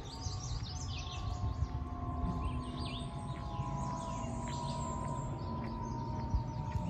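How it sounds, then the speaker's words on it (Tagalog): Birds chirp and trill high over a steady outdoor hum at Nutley Memorial Park, several calls overlapping continuously at moderate distance. "Naririnig nyo naman mga huni ng ibon."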